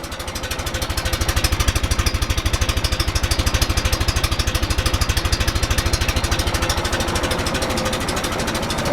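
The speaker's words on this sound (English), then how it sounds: "we will try it at idle and then go to full throttle and try it again" An Allis-Chalmers tractor engine fitted with a muffler idles steadily, a close, even low-pitched thumping pulse with a fast regular rhythm and no talk.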